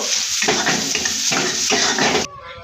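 Chopped onions and green chilies fry in soybean oil, a steady close sizzle broken by repeated scraping and stirring strokes in the pan, ending abruptly after about two seconds.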